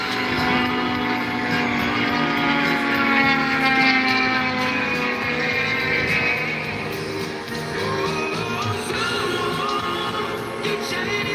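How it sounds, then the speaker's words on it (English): Aircraft propeller noise at an airshow, blade tips turning near the speed of sound, giving a steady, loud buzzing drone with layered tones that holds throughout with slight swells. "That noise you could hear then is not exhaust noise, it's propeller noise."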